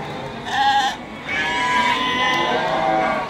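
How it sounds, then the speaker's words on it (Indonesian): Sheep and young rams bleat loudly up close at the Pasar Wage livestock market in Bumiayu, with two or three overlapping wavering cries over a busy market background. "domba-domba yang di pasar."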